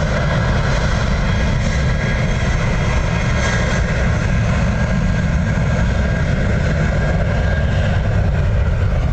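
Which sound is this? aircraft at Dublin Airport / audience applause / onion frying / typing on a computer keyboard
aircraft at Dublin Airport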